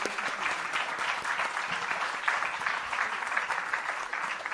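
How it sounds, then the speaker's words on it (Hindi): A seated audience at a panel discussion event claps together in sustained, even applause, moderately distant and fairly soft, with a steady texture throughout. "जी हाँ, तालियां होनी चाहिए."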